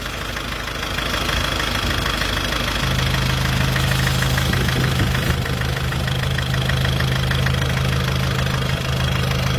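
A 1994 Isuzu Panther engine idles close by with the hood open, a steady mechanical rumble that settles into a firmer, even hum partway through, with no voices.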